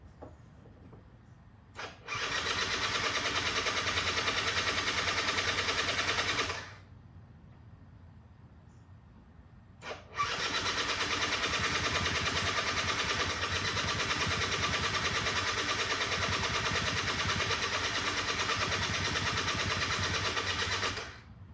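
A 20-year-old moped engine cranks in two long bursts, a steady buzzing whir for several seconds, a pause, then a longer stretch of cranking that never catches, heard close and loud.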